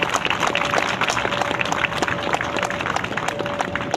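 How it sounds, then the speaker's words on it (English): A crowd applauds at a Walmart store ribbon-cutting ceremony, dense and steady clapping filling the space with a faint tonal hum underneath, moderately loud with no distinct voices. "Can we get another round of applause for Gabby again, real quick?"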